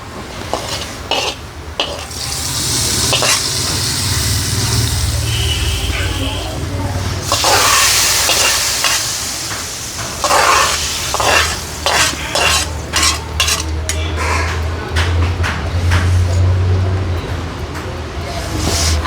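Curry sizzling in a pan as it is stirred, a continuous loud frying hiss with repeated scraping and clinking of the spoon against the pan throughout.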